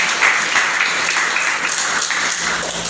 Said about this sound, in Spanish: Si usted lo cree, déle un aplauso al Señor.